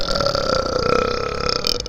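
A person burps loudly and continuously for about two seconds, a long, sustained, resonant belch close to the listener.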